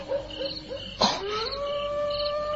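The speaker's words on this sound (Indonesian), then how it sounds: "Dengar lolongan serigala itu" In a radio drama, a wolf gives a long rising howl that holds steady to the end, following a few short yips at the start, sounding close and clear with no voices over it.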